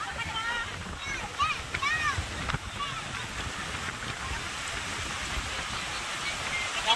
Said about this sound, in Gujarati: દરિયાના પાણીની વચ્ચે ઈ ડૂબકા મારે.